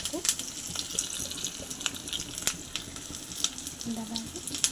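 Curry leaves fry in hot oil for a cabbage and moong dal dish, a continuous soft sizzle scattered with sharp crackles and pops, close by and unaccompanied by talk.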